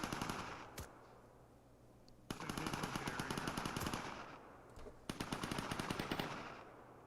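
Sustained automatic gunfire in the Arma 3 game, repeated rapid bursts with crisp individual shots, a loud stretch in the middle and another near the end, with quieter pauses between and no talk.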